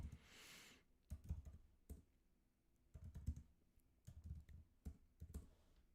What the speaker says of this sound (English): you can immediately hear me typing